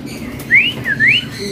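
A young songbird chirps at a bird market behind Pasar Pramuka, giving two clear whistled notes, one rising and one swooping, close by over a faint background hum.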